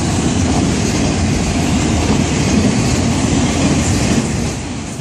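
A long FEC freight train rolls steadily past up close, a loud continuous rumble of railcars including Southern Pacific and Conrail cars, with a constant rhythmic wheel clatter that eases slightly at the end.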